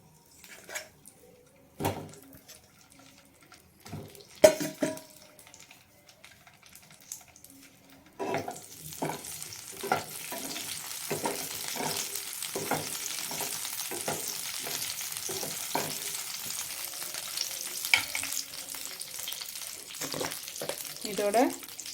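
Eggplant pieces drop into hot oil in a pan and start frying, first a few scattered clatters and scrapes, then a continuous sizzle with repeated stirring strokes and utensil clinks, close and moderately loud.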